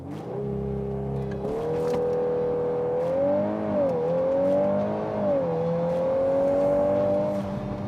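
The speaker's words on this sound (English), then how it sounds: "The 4-cylinder turbocharged engine is quite impressive." A VW Golf R Mk8's turbocharged four-cylinder engine pulls hard under acceleration, its steady rising drone climbing in pitch with brief dips at gear changes, heard from inside the car with no talk.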